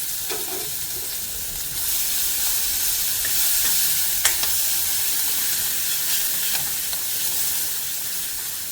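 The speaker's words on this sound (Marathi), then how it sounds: "हे मस्तपैकी तेलामध्ये थोडं फ्राय करून घेते" Crushed garlic and a green chili fry in oil, giving a loud, continuous, hissing sizzle that holds steady, with a few faint clinks and no voices.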